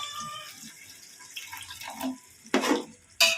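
Water pours into a cooking pot while making chicken biryani, with soft liquid splashing that builds to two louder bursts of pouring near the end.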